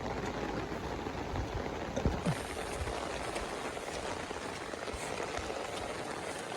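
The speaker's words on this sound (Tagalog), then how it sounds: "Lakas ng ulan." Heavy rain during Typhoon Kristine, a steady broadband hiss of downpour drumming on surfaces, with a few brief louder knocks and splashes near the middle.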